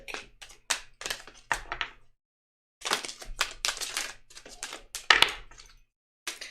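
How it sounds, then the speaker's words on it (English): Large, thick tarot cards being shuffled by hand in bursts of quick riffling taps and flicks, with short pauses between rounds and a longer gap partway through, close and fairly quiet. "I don't know about these cards. They are hard shuffling."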